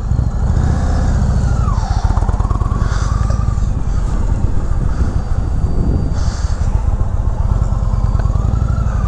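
A 2019 Indian Chief Dark Horse motorcycle being ridden: a loud, steady V-twin engine drone with a rhythmic low pulse, close up, with shifting revs and wind rush throughout.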